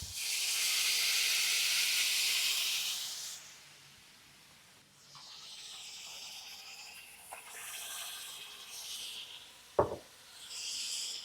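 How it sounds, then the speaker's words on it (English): Tomato juice hits a hot skillet of cooked steak in a strong, loud hiss that fades after a few seconds, leaving softer bubbling and sizzling, with a brief clink of a utensil near the end. "Now we're going to add our tomato juice."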